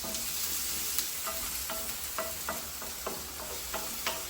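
Green chilli, garlic and ginger for a curd curry are stirred in a hot pan: a soft, steady sizzle with regular scraping strokes of the spoon, close and fairly quiet.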